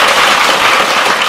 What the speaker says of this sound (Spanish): Sí, quiero aplaudirle a eso.